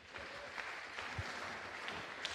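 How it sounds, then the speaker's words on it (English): Audience applause at the opening ceremony of a Nigerian pharmaceutical society conference, a steady, fairly faint wash of clapping heard from a distance across the whole moment. "Please, a round of applause for them."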